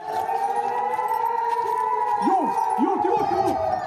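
Warning sirens wail steadily over a busy crowd in Israel during an Iranian missile and drone attack, with shorter rising-and-falling siren tones joining near the end; loud and continuous throughout.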